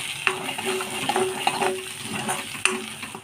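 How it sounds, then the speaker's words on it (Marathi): Brinjal curry is stirred and sautéed in a pan with masala. A spoon repeatedly scrapes and taps the metal pan at close range over a steady soft sizzle. "छान अजून परतून घ्यायचं आपल्याला."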